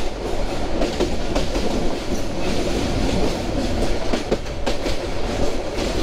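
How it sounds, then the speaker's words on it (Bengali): Tista Express passenger train running on rails through Mymensingh district in winter, a steady loud rumble of wheels with rhythmic clickety-clack and occasional sharp clicks, continuous throughout with no voices. "আমাদের ট্রেন ছুটে চলছে সামনের দিকে।"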